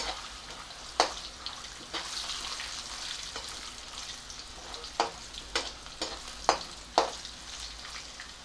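Raw peanuts fry in a pan over low gas for a jowar puffs chivda, a soft continuous sizzle with several sharp stirring scrapes of a spoon against the pan, close by with no talk.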